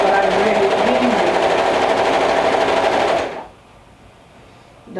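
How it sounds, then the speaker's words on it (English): A serger sewing machine runs fast, gathering fabric, a loud steady whirring buzz that stops abruptly after about three seconds, leaving near silence. "I know not everyone likes to gather with a serger, but I really do."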